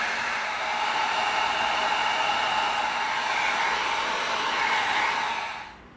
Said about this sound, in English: we are going to get our heat gun out. We are going to heat this up